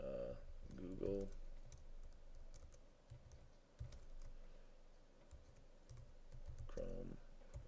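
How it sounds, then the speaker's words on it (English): Computer keyboard typing as a short text label is entered in an operating system tutorial; scattered key clicks come in small bursts, close and moderately quiet. "I'm just going to put it here and type in"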